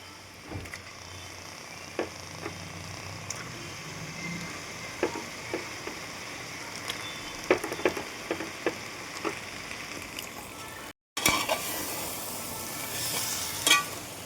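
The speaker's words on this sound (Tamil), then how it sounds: "இறாவை போட்டுட்டு நல்லா கிளறி விடணும், அடி பிடிக்காமல்" Large prawns sizzle in a masala gravy in a pan, a steady close-up frying hiss broken by irregular scraping clicks as a spoon stirs them, with a brief cut before the sizzle resumes louder.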